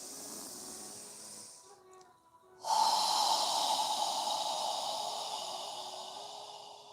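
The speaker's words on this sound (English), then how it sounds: "As you exhale, imagine you're fogging a mirror with your breath." Audible exhale during yoga breathing, a soft breathy hiss that fades, a brief pause, then a stronger open-throated breath like fogging a mirror, close and sustained as it slowly trails off.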